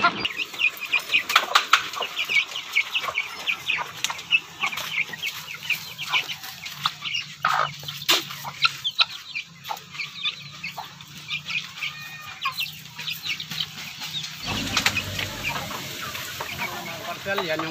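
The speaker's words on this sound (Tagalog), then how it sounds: "mga bagong sisiw natin, Rhode Island White" Hens and newly hatched Rhode Island White chicks cluck and peep up close in a coop, with steady chirping, frequent clucks and a brief wing flap, while a person talks quietly in the background.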